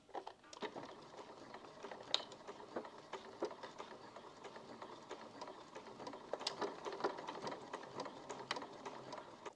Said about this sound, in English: I'm going to stitch this in place.